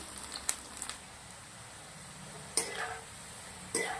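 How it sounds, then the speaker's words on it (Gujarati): Low, quiet sizzling of bitter gourd frying in oil, with three sharp clinks of a utensil against the pan spaced across the clip. "કારેલાને આપણે તળી શેકી કાઢી દેવાના છે તેલના અંદર"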